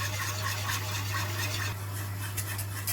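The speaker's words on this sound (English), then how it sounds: "I'm going to add some milk, and I'm just going to stir this in to prevent any lumps" A spoon works milk into a macaroni cheese sauce in a pan, making a continuous close scraping and swishing over a low steady hum, with no voices.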